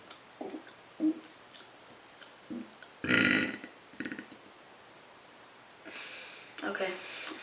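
A woman lets out several short closed-mouth burps, muffled low gurgles coming in uneven bursts with pauses between, close to the microphone.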